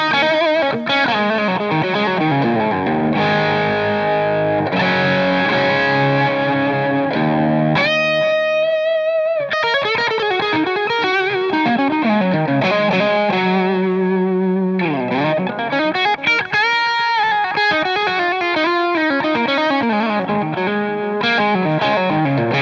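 An electric guitar plays through the high-gain blue channel of a Bogner Ecstasy 50-watt amp, with thick distorted chords and sustained single notes under heavy modulation and chorus-like shimmer, continuous and loud with no talking.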